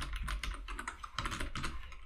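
Rapid keystrokes on a computer keyboard as an SQL query is typed, a steady run of close, crisp clicks with no talking.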